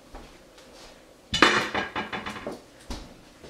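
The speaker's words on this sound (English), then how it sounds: "We're taking out the last of the 4 jars" Glass canning jars of turkey broth are lifted from a canner, with a loud clunk followed by a run of rattling clinks and knocks of glass and metal, close by and without speech.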